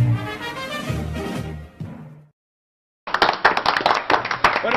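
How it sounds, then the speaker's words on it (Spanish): An audience inside a circus tent breaks into close, brisk clapping after a brief silence, following a stretch of music at the start. "ahí está el público aplaudido, tenemos público"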